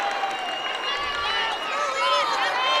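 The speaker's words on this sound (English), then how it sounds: "Their crowd, student section, getting into this one now" A student section crowd at a girls basketball semifinal roars and cheers continuously, with shrill whistles and shouts in a dense, lively wash of noise.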